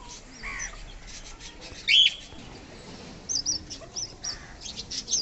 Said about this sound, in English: Beautiful fantail birds are coming in sunlight and taking sun bath.